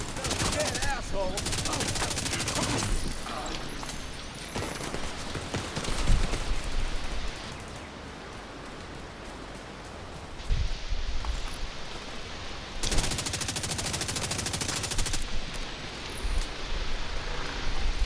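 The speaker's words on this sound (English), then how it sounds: "I'm firing!" Video game gunfire: sustained automatic bursts that keep up almost without pause, set against a constant wash of noisy background ambience, with louder clusters of shots coming and going.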